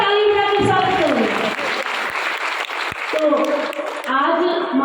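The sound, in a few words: audience applause welcoming a guest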